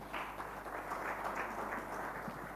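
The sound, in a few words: audience applause at foundation launch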